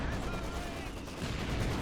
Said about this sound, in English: mortar kills the engineer squad right there